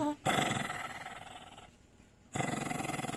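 A dog growls low and rough in two long bursts separated by a short pause, close by, with no talking.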